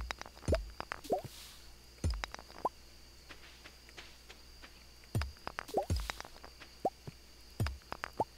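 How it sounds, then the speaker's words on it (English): Items dropping into water in Stardew Valley, a series of about a dozen separate soft plops and splashes spread unevenly across the clip, clear against a quiet background. "Sounds like a lot of it fell in the water."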